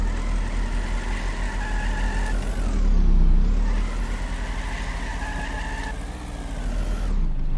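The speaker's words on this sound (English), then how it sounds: "Sweet burnout." A car in a video game does a burnout, its engine revving loudly in repeated rising and falling sweeps, with a gritty roar dropping and climbing again twice across the run and no voices.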